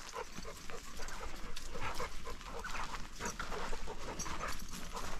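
Several dogs on a farm where sheep, chickens and roosters are kept, giving busy, overlapping barks and whimpers close by throughout, with general farmyard bustle underneath.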